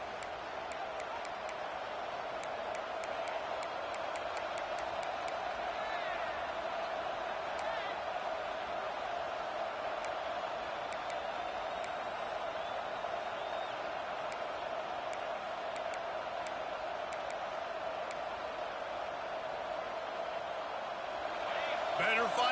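Loud, steady roar of a stadium crowd at a Washington football game, building as the defense lines up on third down, a continuous wall of noise under a commentator's voice.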